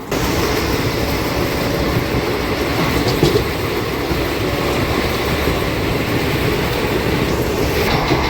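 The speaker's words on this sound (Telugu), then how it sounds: "మన డెమో ట్రైన్ రెడీ అయింది" A HHP DEMU train built in 2012, running between Nandyala and Kurnool, rumbles along continuously from inside the coach, a steady dense roar with faint wheel rattles and no talking.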